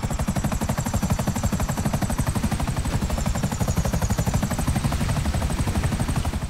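Video game helicopter with a close, loud, rapid rotor chop pulsing steadily throughout, a thin high whine riding above the thumping blades.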